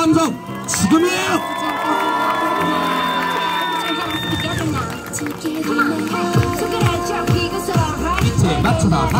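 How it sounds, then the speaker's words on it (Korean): An outdoor audience at a Hongdae street busking show by a mixed-gender dance crew, cheering and whooping loudly with scattered claps, while a host talks through a microphone over the noise. "여러분들의 박수 함성 지금이에요."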